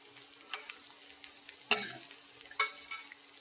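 Minced garlic, about 25 cloves, fries in a pan as the base for chicken fried rice, with a soft sizzle under a few sharp stirring scrapes and clacks. No one speaks.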